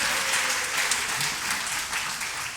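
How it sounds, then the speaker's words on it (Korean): Applause of encouragement from a church congregation during a Sunday afternoon worship service, a steady crowd clapping that fills the whole stretch at even strength. "이 친구를 향해서도 격려의 박수 한번 할까요?"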